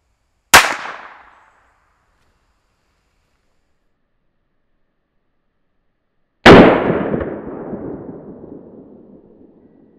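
A tiny revolver fires two sharp, loud, close shots into a bar of soap several seconds apart. The second crack rings out with a longer fading tail. No one speaks.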